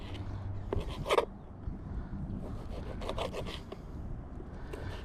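A knife saws through a frozen yakka baitfish, cutting it into strips with rasping, scraping strokes and a sharper burst early on, close and moderately quiet over steady background noise.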